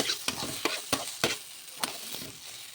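Ginger frying in a pan of snail curry, with a steady sizzle under repeated scraping stir strokes of a spatula, close and moderately loud, with no voices.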